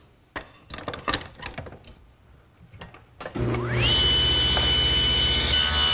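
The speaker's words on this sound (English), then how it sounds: "Once again, I'm using my tenon cutter." A tenon cutter makes cheek cuts in mesquite wood for a bookcase. A few knocks and handling clatter come first, then the machine's motor spins up with a rising whine and settles into a loud, steady roar.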